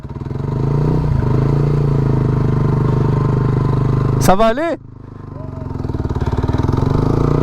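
A Zontes 125 motorcycle engine runs steadily at close range, a low continuous drone beneath a brief spoken question, dipping for a moment before building back up.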